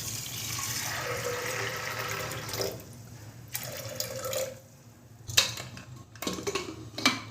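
Water poured into a pot of peas with salt and turmeric in a kitchen, a splashing fill in separate bursts with metallic clinks of the pot, no voices.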